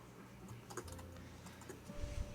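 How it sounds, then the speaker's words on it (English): Soft, quick tapping of keys on a computer keyboard, irregular and faint, heard alone up close with no talking. "I'm typing something."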